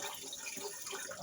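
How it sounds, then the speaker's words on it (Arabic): Water runs steadily from a kitchen tap while rice is rinsed in a home kitchen, a continuous close splashing and hissing flow with no talk over it. "انا كده خلصت غسيل الرز اهو."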